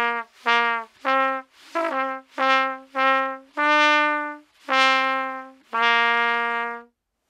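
A trumpet plays the simple tune Hot Cross Buns without tonguing, so its bright, clear notes slur and smear into one another in a short phrase of about ten notes with uneven, soft attacks, heard alone and close.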